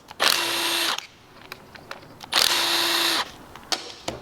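A powered 8mm socket driver spins fasteners out of a locked-up Vespa GTS motor cover, two loud close whirring bursts of under a second each, separated by small clicks and clatter of parts.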